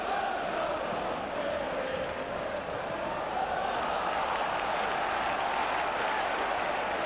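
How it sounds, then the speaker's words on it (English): A White Hart Lane football crowd roars in acclaim after a Tottenham goal against Newcastle United, a broad, distant, sustained stadium din with a commentator talking over it. "Fully deserves the goal and the acclaim of the White Hart Lane crowd."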